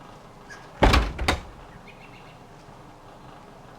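The church access door in the video game Willy Morgan and the Curse of Bone Town swings open with a single loud, heavy thunk and creak lasting about half a second, followed by quiet ambience.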